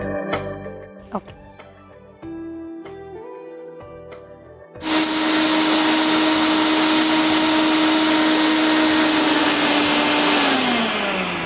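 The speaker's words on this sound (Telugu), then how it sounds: "ఇప్పుడు మనం మిక్సీ పట్టేసుకుందాం" A kitchen mixer grinder whirring loudly as it grinds a spice powder for pea kurma, starting abruptly after some preparation noises and running with a steady high whine for several seconds before winding down.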